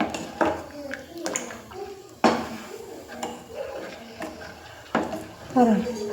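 A ladle stirs urad dal porridge in a metal pot, making irregular clanks and scrapes against the sides, loud and close, while a person talks over it.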